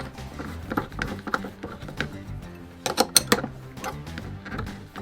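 A Triton router's built-in lock engages while a bit is removed, giving quiet metallic clicks and ratcheting taps, with a brief cluster of sharper clicks near the middle.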